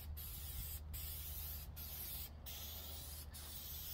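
Aerosol spray coating being applied to the webbing of a 1967 Cougar car seat, a steady hissing spray running continuously and close by with brief pauses, no talk.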